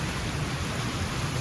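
Steady rain falling outdoors, a continuous dense hiss with a low rumble underneath, loud and even throughout with no voices.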